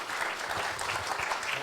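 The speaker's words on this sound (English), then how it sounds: "Please give them all a round of applause." A crowd at a premiere screening and Q&A of The Mavis Bramston Show applauds panel guests, steady even clapping throughout with no talking.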